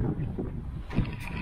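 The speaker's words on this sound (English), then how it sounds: "A little bit windy," Wind buffets the microphone outdoors at Prince Albert Cairn in Scotland, a continuous low rumbling roar with gusts swelling toward the end.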